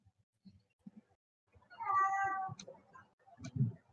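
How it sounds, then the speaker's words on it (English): A cat meows during a tabletop fantasy game session, one drawn-out, clear meow with a short squeaky tail, followed by a few faint bumps and low rustling noises nearby. "Somebody love on that kitty."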